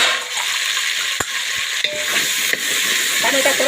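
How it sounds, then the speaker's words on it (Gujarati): Tomatoes frying in oil with mustard seeds, cumin, asafoetida, ginger, green chili and garlic for village-style eggplant bharta sizzle steadily up close, with a few sharp spoon scrapes and taps against the pan. "ટામેટા સરસ મજાનો શેકાઈ ગયો છે, તેલના અંદર સરસ મજાનો રેડી થઈ ગયો છે"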